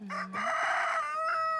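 A rooster crows loudly and close by in Puerto Rico, one long drawn-out call, with a short spoken word just before it.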